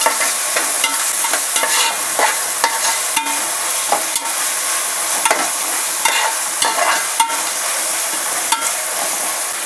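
Tomatoes sizzling and frying in a hot pan for egg pulao, with a spoon scraping and stirring in frequent sharp clinks over a steady crackling hiss, close and loud.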